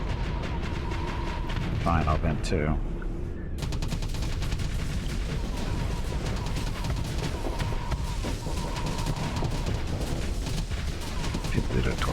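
Spaceship cannons in the space combat game Starsector fire as a constant barrage of rapid blasts and booms, loud and dense throughout, while someone talks over them.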